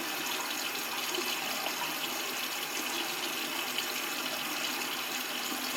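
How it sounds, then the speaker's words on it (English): Water runs steadily from a tap while hands are wetted at a sink, a continuous close hiss and splash with no talking. "Wet up my hand."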